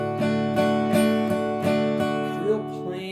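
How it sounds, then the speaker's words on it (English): A guitar is strummed down and up in an even, steady rhythm across all strings, giving about eight chord strokes that ring together in a plain, uniform sound. "What if I just played it evenly across the board? It'll sound kind of like this."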